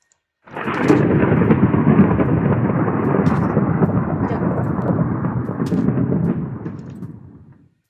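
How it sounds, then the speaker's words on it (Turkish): A lightning strike in Minecraft produces a loud, sustained rolling rumble of thunder that starts abruptly and fades out over several seconds. "Nasıl şimşek çaktı?"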